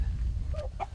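Hens cluck briefly inside a two-storey henhouse converted from a shower shed, a couple of soft calls over a low rumbling background, fairly close with no speech.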